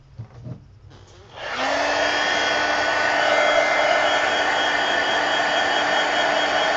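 A hair dryer is switched on to dry paint on a planner page, with brief handling noises first, then a loud steady whooshing roar with a constant whine that runs to the end.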